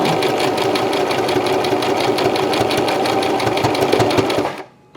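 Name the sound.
sewing machine stitching, reversing to lock the seam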